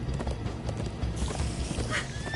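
Galloping horse hooves in the Minecraft Story Mode video game, a steady rapid clip-clop over a busy game soundscape with a brief whinny-like tone near the end.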